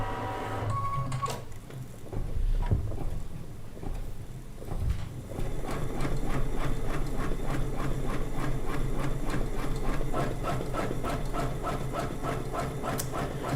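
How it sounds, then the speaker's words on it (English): An embroidery sewing machine bastes quilting fabric to stabilizer in the hoop, starting with a few clicks before settling into a fast, even, mechanical stitching rhythm that runs steadily close by. "All I have to do is touch my start button and it will baste."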